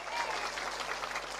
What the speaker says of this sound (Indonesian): Tepuk tangan dulu dong buat panitianya luar biasa.